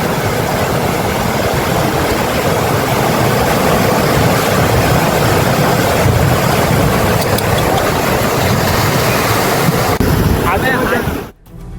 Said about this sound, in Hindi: देखिए जरा कैसे पानी की तेज धार में ये गाड़ी